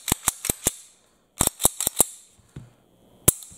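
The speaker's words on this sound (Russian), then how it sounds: "Затвор немножко сложнее передернуть, особенно если курок не взведен." Slides are racked by hand on a wartime 1911A1 pistol and a TT pistol. Two quick runs of four crisp, close metallic clacks are followed by a pause, a faint rattle and one last sharp click, with no voices.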